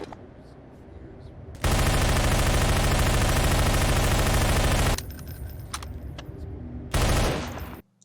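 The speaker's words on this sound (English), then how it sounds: "all weapons sound a lot more impactful, the shotgun for instance sounds like a goddamn howitzer" Weapons firing in Entropy: Zero, a Half-Life 2 mod: a long, loud sustained burst of automatic fire, a pause with quieter sounds, then another heavy burst, with someone talking between.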